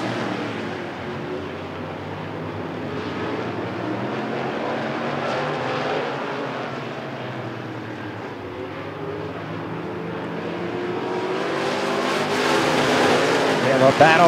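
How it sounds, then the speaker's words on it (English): Race cars in a heat at Rockford Speedway roar around the oval, a steady engine drone that swells louder near the end and rises over a commentator talking throughout. "Taking the early lead, the 211 car of Bill Schultz is in second place"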